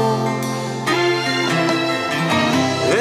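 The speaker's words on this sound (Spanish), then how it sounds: "Ahí hicimos una ranchera." A ranchera song plays as a full recording, with dense, steady instrumental music and sustained melodic lines running throughout at a strong, even level.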